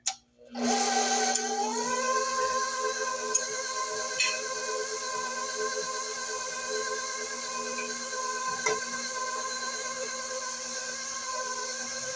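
An electric mixer whirs steadily on second speed while mixing coconut cake batter with eggs, starting up after a brief silence and holding a loud, even motor drone with a faint bump or two.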